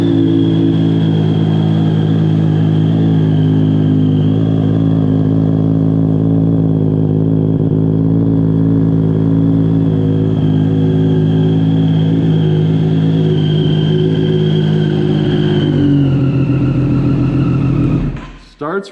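A track motorcycle engine runs steadily and loudly up close, with a continuous low idle hum. It cuts off near the end.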